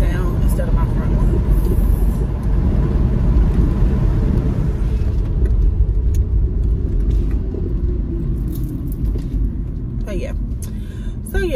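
A car drives with its back windows rolled down, giving a loud, constant roar of wind buffeting and road rumble that fills the whole stretch, with faint sounds of a voice beneath it.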